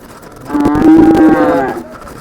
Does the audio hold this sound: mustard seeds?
no